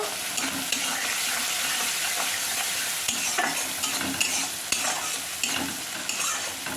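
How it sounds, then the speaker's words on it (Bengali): Onions frying in a pan with turmeric powder added for prawn do payaza, a continuous loud sizzle with repeated scraping stirs throughout and no talk. "এর মধ্যে এবার আমি একটু হলুদের গুঁড়ো দিয়ে দিলাম, দিয়ে এবার এটাকে ভাজতে থাকবো।"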